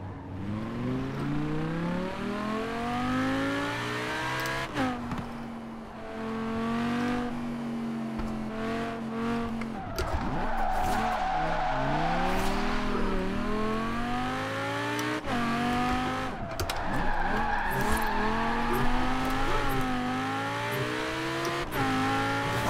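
A car in Forza Horizon 4 accelerates hard through rising, shifting engine whines with gear changes, tires skidding and squealing between bursts, loud and continuous throughout.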